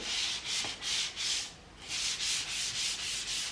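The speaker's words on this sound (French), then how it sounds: "Vous pouvez, si vous êtes suffisamment doux, poncer dans le sens inverse des fibres." Wood sanded by hand against the grain with gentle strokes, a close, soft rhythmic scratching that repeats steadily in even back-and-forth passes with a short pause midway.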